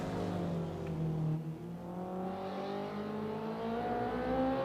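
A big BMW's engine straining in a touge racing video game, a steady sustained drone with rising and falling harmonics as the revs climb and shift, loud and continuous throughout without any talk.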